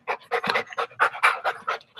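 Dog panting close by, rapid rhythmic breaths in a steady series of about a dozen huffs, fairly quiet and without talk.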